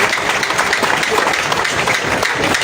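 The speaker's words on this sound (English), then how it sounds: "Please clap for yourselves" A crowd of party supporters at an NUP manifesto rally in Kavule applauds themselves, steady clapping that carries evenly through the whole stretch with a faint murmur of voices beneath.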